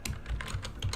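Someone types a folder name on a computer keyboard: a quick run of close, crisp keystrokes with no voices over it.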